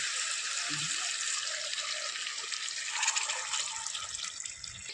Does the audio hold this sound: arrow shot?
no